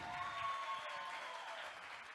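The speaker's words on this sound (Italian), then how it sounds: "un grande applauso alla nostra Rebecca Cupoli" Audience applause for a performer named Rebecca Cupoli at a live show in Porto Cesareo: a soft, steady wash of clapping held evenly for a couple of seconds, heard at a distance.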